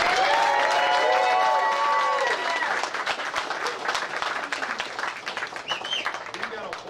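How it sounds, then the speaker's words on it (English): Audience applause and clapping at the DJSA 2014 season awards pre-ceremony, a dense, steady wash of many hands that holds strong and then thins slightly, with some voices and cheering mixed in. "a huge round of applause for Mr."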